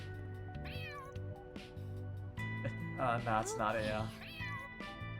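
Cats meowing in the video game Trails Through Daybreak, several close, drawn-out meows over a steady game music bed, with a person briefly talking between them.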